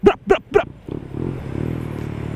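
A premium Italian scooter engine revs after three short vocal bursts, settling into a steady close idle-to-rev drone with a faint mechanical clatter.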